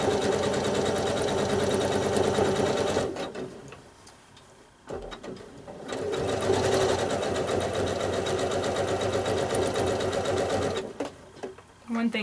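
Sewing machine stitching a large applique onto a quilt background, a close rapid rhythmic needle clatter running in long bursts with brief pauses, while a person talks over it.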